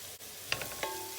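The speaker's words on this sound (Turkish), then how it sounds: "Bu aşamada biberlerini atıyoruz." Green peppers added to onions sautéing in a pot for an eggplant dish, giving a brief soft sizzle with a few light stirring clicks at close range, no voices.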